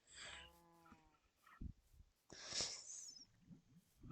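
Cattle in the video game ARK give several low, drawn-out moos close by, with snorting breaths between the calls.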